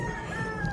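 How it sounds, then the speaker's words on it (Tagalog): A white chicken gives a short, loud, harmonic call, a single sustained cluck-like crow lasting under a second, close by. "Manok na ugis."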